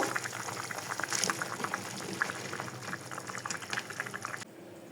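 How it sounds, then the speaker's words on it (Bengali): Curry gravy with eggplant bubbles in a pan on the stove, a close, moderately quiet stream of popping and burbling with small splashes that stops abruptly near the end. "ঝোলে জাল উঠে গেছে, তো এখন আমি এই যে বেগুনগুলো দিয়ে দেব"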